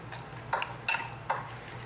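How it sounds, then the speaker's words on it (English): Utensil scraping and clinking in a bowl while mixing a lunch wrap filling bound with almond butter, three distinct metallic taps against a soft background, close and unaccompanied by talk. "I just mix it all together"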